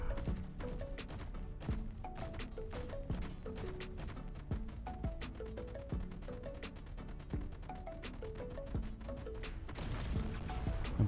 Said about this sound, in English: let's see if 13 meters away is enough distance for the hydrogen tank explosion